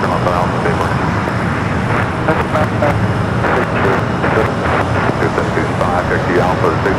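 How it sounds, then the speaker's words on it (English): A Boeing 757 begins its takeoff roll on runway 25 right at LAX, a steady broadband engine roar filling the scene with continuous rumble and hiss, with faint chatter heard underneath. "we got that 757 at 300 heading to Dulles, now starting its roll down at 25 right"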